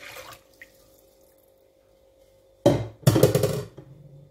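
Water is poured into a bowl for dough, a short splashing gush in two quick bursts, close and fairly loud in a quiet kitchen.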